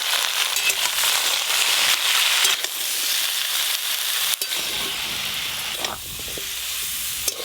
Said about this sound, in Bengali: সব কিছু সবজি একদম হালকা করে নেড়ে নিয়েছি